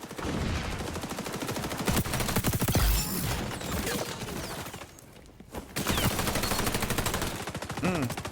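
Rapid automatic gunfire rattles almost continuously in an XDefiant shooter match, dense bursts dipping briefly into a quieter gap before resuming, with talk faintly underneath.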